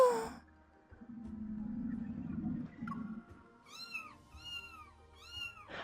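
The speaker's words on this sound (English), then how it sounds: "cheerful meows resound from the building across the street" Cheerful cats meowing from a building across the street in the video game Love & DeepSpace: a low rumbling hum first, then three clear, rising-and-falling meows in quick succession near the end.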